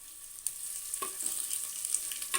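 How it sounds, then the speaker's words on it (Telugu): Chopped onions fry in a pan with bay leaves, a constant high sizzle broken by a few soft stirring knocks. "మంచిగా ఎర్రగా గోలేదాకా ఫ్రై చేసుకుందాం."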